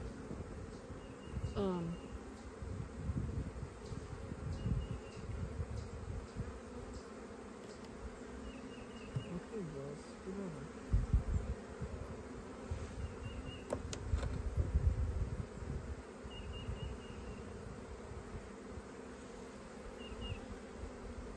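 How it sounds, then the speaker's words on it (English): A dense, steady drone of many bees buzzing close by in a crowded hive, with individual bees passing near; faint murmur of voices in the background. "you have a lot of bees here."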